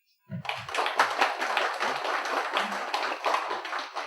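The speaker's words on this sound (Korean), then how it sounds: "박수 한번" A church congregation in Seoul breaks into clapping after a brief voice at the start, a quick, even burst of many hands lasting a few seconds at moderate distance.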